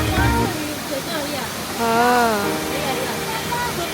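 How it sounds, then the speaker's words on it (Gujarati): A mountain stream rushes past a cave shrine at Katra on a rainy day, a steady, close broadband roar that runs through the whole stretch while people talk over it. "અહીંયાથી ઝરણા જાય છે."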